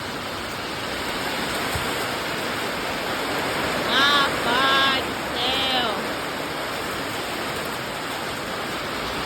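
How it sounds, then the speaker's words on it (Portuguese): Sudden heavy rain pours down steadily at a rural farm, a dense, loud, continuous hiss with no letup, while a person briefly exclaims partway through. "olha a chuva que veio de repente, gente"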